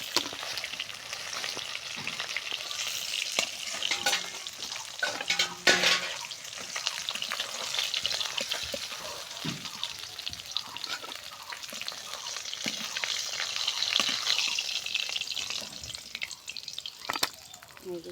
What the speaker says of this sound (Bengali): এই যে দেখুন আমার মাছ ভাজা হয়ে গেছে।